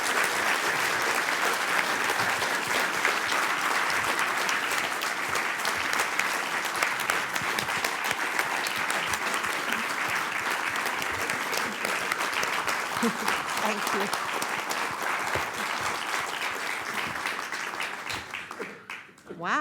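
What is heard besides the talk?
long audience applause after a lecture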